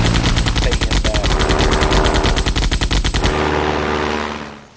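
Rapid machine gun fire from a WWI biplane dogfight in Sid Meier's Ace Patrol, set over the Somme, loud sustained bursts with a droning engine, the gunfire stopping after about three seconds while the engine drone continues and fades.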